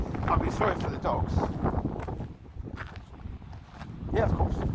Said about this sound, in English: It's very windy that way, going this way.